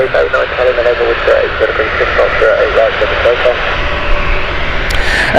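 Air Europa jet airliner on a Madrid flight at Gatwick, a steady engine rumble and whine in the background while someone talks over it.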